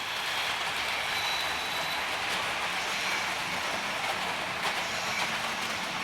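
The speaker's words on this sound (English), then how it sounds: "we've got two digital locomotives, two class 37s," Two model railway class 37 locomotives pulling a sandite railhead cleaning train slowly around a layout, giving a continuous close rolling whir and light clickety-clack of wheels on track, steady and unbroken with no talk.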